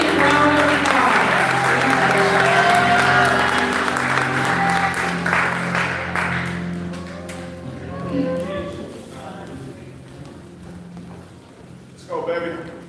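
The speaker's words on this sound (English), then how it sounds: "Please give her a big round of applause." Applause from a church congregation at a White Sunday children's service in an Assemblies of God church, with a steady wash of clapping mixed under sustained tones and murmuring voices, fading gradually toward the end.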